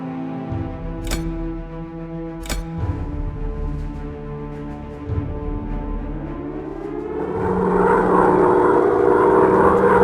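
A WWII propeller bomber in a flight game drones steadily with a low engine hum, two sharp clicks early on, and the engine swells louder and fuller toward the end, with no talk over it.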